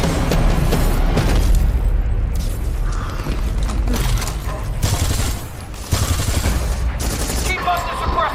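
Rapid gunfire and mechanical clatter from a mobile video game battle, loud and dense throughout, with bursts shifting in intensity and sharp cuts between sections.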